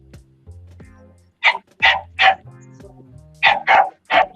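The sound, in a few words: puppy barking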